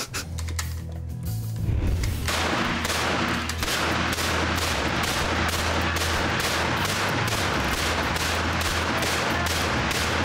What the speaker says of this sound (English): I'm in the lane watching Paulie shoot freaking guns, man